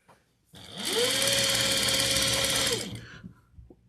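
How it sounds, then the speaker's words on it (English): Close up, a sewing machine closes the bottom of a pillowcase in one steady, loud burst of motor whir and rapid needle chatter lasting about two seconds, then stops and is followed by a few small clicks. "we're now sewing the bottom close as well"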